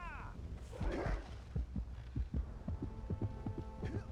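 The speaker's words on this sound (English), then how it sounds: "If I touch the water right here, it starts the heartbeat." Slow, regular heartbeat thumps from the Jak & Daxter: The Precursor Legacy video game, triggered by touching water, pulsing steadily and low under a faint hum, with a brief voice-like swell near the start.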